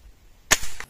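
A single sharp shot from a Hatsan HT135 gas ram spring air rifle fired at a can target 40 meters away, a sudden close crack followed by a brief rattling tail of mechanical noise and echo.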